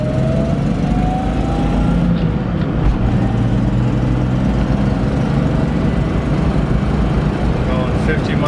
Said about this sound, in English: Going 50 miles an hour in a residential neighborhood. 3rd gear right now.